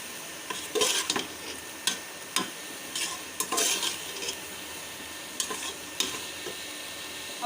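Chana dal being stirred in a hot pan with chili powder and salt, a spoon scraping and clattering in irregular bursts over a soft steady sizzle, close and fairly loud, no talking.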